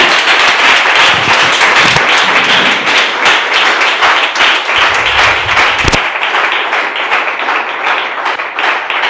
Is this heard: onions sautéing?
no